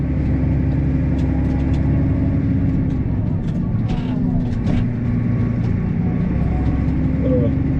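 A tractor engine runs steadily while raking second-cut grass, a loud continuous low rumble with a constant drone throughout.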